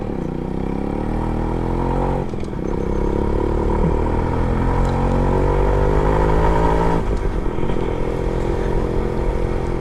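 A Suzuki Max 100R motorcycle is ridden along, its small engine droning steadily and loudly with gear changes and rising revs, accompanied by rushing wind.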